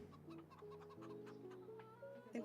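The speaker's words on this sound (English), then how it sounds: "Our chickens are 4 months old" Chickens cluck in Farming Simulator 25 on the Riverbend Springs map, a soft, continuous run of low hen calls that goes on throughout, with a brighter squawk near the end.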